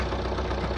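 Car engine idling after its spark plug was cleaned, a steady close-up low rumble with an even, fairly smooth running tone and no talking.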